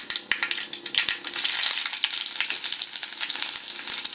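Shallots frying in hot coconut oil with popping mustard seeds for a Kerala spinach and dal thoran: a few sharp pops, then a loud, steady, close sizzle with scattered crackles and no voices.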